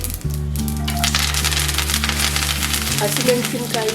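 Curry leaves and green chillies hit hot oil already holding mustard seeds and cumin, giving a loud, close burst of crackling sizzle with sharp spattering pops over a steady frying hiss, alone without talk.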